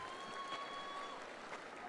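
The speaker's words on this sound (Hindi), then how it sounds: "सभी तालियों के साथ उनका स्वागत करें." An audience at a festival in a stadium hall clapping to welcome a speaker, a dense, steady patter of many hands filling the whole short stretch at moderate level, with a faint tonal hum underneath.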